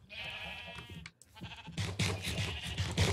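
Sheep bleat in the video game Minecraft, with a few wavering, nasal calls close by that follow one after another over a short stretch.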